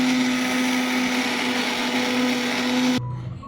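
A mixer grinder grinding grated coconut for moong dal payasa, a loud steady whirring motor whine up close that cuts off abruptly near the end and leaves a faint winding-down rattle.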